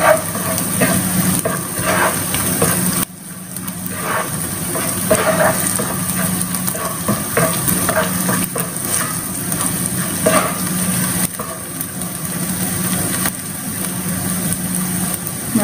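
Garlic and ginger sauté in a hot pan for chicken and shrimp pancit bihon, a steady loud sizzle with occasional scraping stirs, with a low engine-like hum running underneath throughout.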